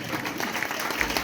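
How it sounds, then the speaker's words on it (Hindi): An audience claps steadily through a birthday celebration for a revered guru in Sabhapur, the applause dense and continuous with a faint crowd murmur. "तो सबसे पहले एक बार जोरदार ताली बजाएंगे परम पूज्य गुरुदेव के जन्म दिवस के उपलक्ष्य में।"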